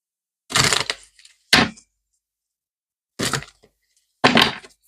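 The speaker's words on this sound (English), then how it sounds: "shuffle the cards" A deck of oracle cards is shuffled in four separate riffling bursts, each a quick crisp flutter of cards close by, with silent pauses between them and no speech.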